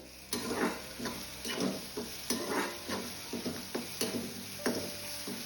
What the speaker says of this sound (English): coarsely ground green peas. Fry until raw smell goes away.